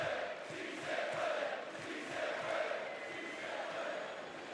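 A wrestling arena crowd at a WWE SmackDown event chants "Sí se puede" in a steady rhythmic swell, a broad wash of many voices rising and falling at a moderate distance.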